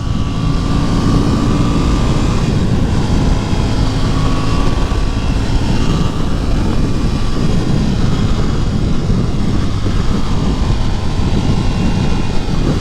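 A 2022 Ducati NightShift motorcycle accelerates up an on-ramp, its engine droning loud and close under heavy wind rush as it shifts through second, third and fourth gears.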